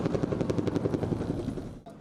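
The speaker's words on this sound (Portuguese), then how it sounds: "um helicóptero sobrevoava o Morro do Turano" A helicopter flies over Morro do Turano, a hillside community in Rio de Janeiro's north zone, during a police operation, its steady rotor thumping loud and continuous before briefly dropping near the end.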